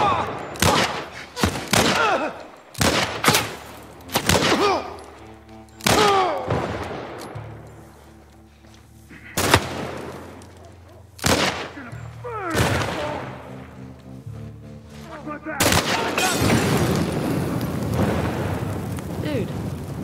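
Gunfire in The Last of Us: a volley of sharp, loud shots, some in quick bursts and others spaced apart, ringing out over a rumbling, noisy backdrop with a player talking in between.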